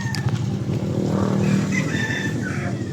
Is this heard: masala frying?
no